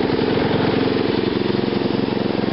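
A small engine fitted with a GEET reactor idles at low RPM, a steady, close, even-pulsed chugging with no voice over it.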